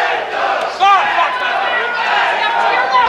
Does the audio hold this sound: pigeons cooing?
no